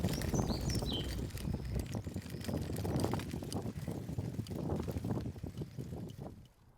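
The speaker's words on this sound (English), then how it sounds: "It's very windy." Strong wind buffeting the microphone with a steady low rumble and gusty broadband noise, with faint chirps above.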